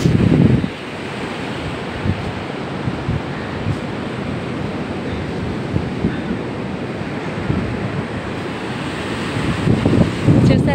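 Sea waves wash onto the beach at Addaripeta, a continuous roar of surf with swells building and breaking, heavily mixed with wind buffeting the microphone.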